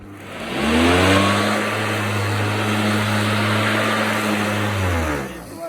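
Hover Vac 270 hover lawn mower engine revving in grass, a loud, steady high-pitched motor drone that swells up quickly, holds for several seconds close by, then begins to drop away.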